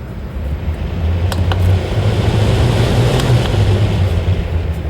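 A roof vent fan in a 2022 Forest River Cherokee Alpha Wolf 26DBH-L travel trailer runs with a steady, loud whooshing rush and a low hum, with a few faint clicks near the start.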